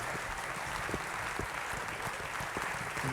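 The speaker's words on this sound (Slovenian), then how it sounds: "dajte en velik aplavz še vam, ki ste prišli danes in naredili ta čudovit večer" Audience applause at a music school's anniversary gala concert, a full, continuous roar of clapping from a large crowd in the hall.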